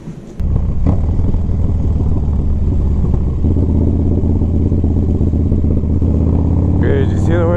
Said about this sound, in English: So I'm gonna hop on the bike